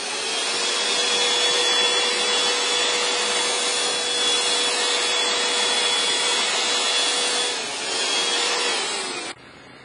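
Aerosol can of Plasti Dip sprayed onto a trash can, a steady close hissing spray held for about nine seconds with one brief dip before it stops.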